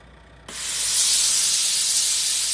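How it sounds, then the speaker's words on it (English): A Laura Star steam iron sprays steam horizontally, starting with a sudden burst after a quiet moment and then settling into a loud, sustained, even hiss. "Margaret, show how that sprays in a horizontal."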